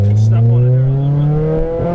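A 2001 Honda Prelude with a cold air intake and aftermarket exhaust pulls hard under acceleration, its engine note climbing steadily and loud from inside the car.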